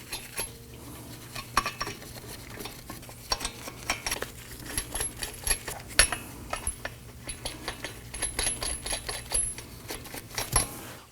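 Metal lug nuts being threaded by hand onto the wheel studs of a 2018-2024 Toyota Camry, with light clicking, scraping and jingling taps in an irregular stream, close by and fairly quiet, with no talking.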